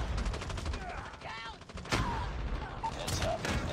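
Rapid automatic gunfire from the video game Call of Duty Mobile, loud and close, rattling almost continuously in dense bursts with a few sharper shots layered in.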